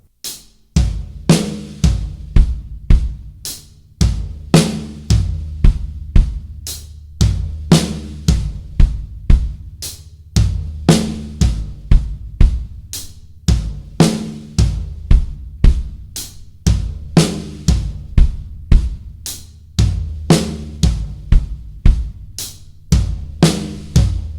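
A drum kit plays a driving crossover fill of sharp, loud hits moving across hi-hat, snare and a deep floor tom, repeated in even phrases with no talking.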